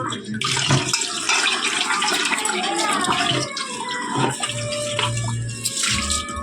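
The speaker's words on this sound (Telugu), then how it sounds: "తలొక 5 చెంబులు వాటర్ పోసారు జల్లెడ పెట్టి" At a haldi wedding ritual, water is poured from pots through a sieve, splashing and streaming steadily with short breaks between pours, while voices chatter nearby.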